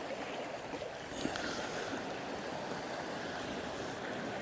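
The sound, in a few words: sea waves and swell at the shore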